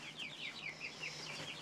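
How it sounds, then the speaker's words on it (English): Five-week-old chickens close by at someone's feet give quick, soft, repeated chirping clucks, a string of short peeps in an uneven rhythm at fairly low volume. "I have two birds by my feet."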